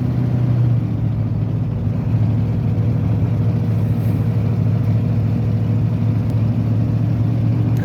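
A woodgas-powered truck on its first drive after repair, bouncing along a bumpy road; a loud, steady low engine drone and rumble fill the cab continuously, up close, with no talking.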